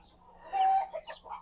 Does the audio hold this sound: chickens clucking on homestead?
yes